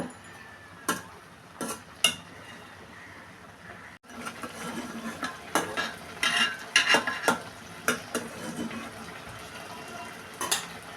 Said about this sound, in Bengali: এবার নেড়ে ছেড়ে রান্না করে নিব